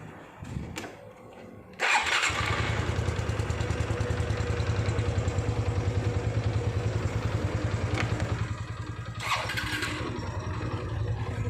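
A kick-start Honda Wave 110i motorcycle fires up after a few short attempts. It settles into a loud, steady, rapid idle that stays close and runs uninterrupted.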